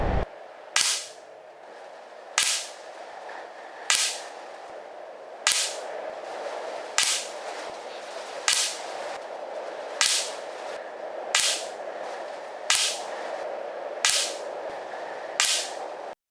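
Eleven sharp air rifle shots fired one at a time at an even pace of about one every one and a half seconds, each a crisp crack standing out above a steady low background. The barrel has just been cleaned.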